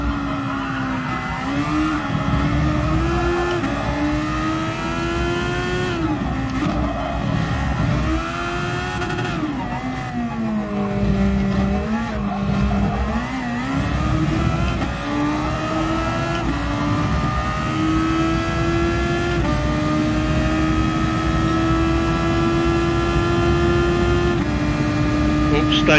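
Race car engine in the DGT video game, revving high and holding a steady tone, dipping and climbing through gear changes and a corner; loud, continuous and close, with no talk over it.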